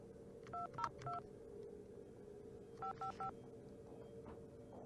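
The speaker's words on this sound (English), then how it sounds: "Let's go call that number" Touch-tone telephone dialing in the Nancy Drew game White Wolf of Icicle Creek: two quick bursts of three clear beeps each, separated by a pause, over a steady low background hum.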